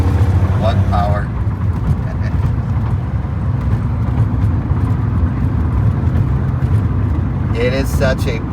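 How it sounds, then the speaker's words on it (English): A 1978 Datsun 280Z drives and accelerates, its engine roaring close and loud as a steady, dense drone throughout, with brief bits of speech at the start and end. "It is such a blast to drive this car."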